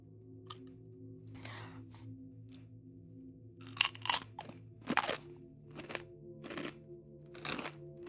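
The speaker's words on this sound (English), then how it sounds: "Sorry, one more chip." Doritos tortilla chips crunched and chewed close to the mic, with a run of sharp, irregular crunches and bites over a steady low background hum, no talking.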